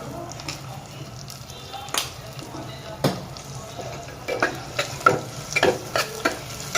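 A utensil scrapes and clatters in a pan as masala paste is stirred into frying chicken, with repeated stirring knocks over a steady low sizzle, close up.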